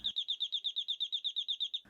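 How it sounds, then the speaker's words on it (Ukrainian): Doorbell ringing with a rapid, bright, nightingale-like trill, a steady run of about fifteen quick warbling pulses, close and clear, cut off abruptly. "пролунав дзвоник, схожий на солов'їні трелі"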